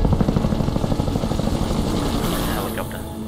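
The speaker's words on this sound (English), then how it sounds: "Helicopter." Helicopter in the video game Max Payne 3 with rapid, rhythmic rotor thumping that is loud at first and then fades into a softer engine whine.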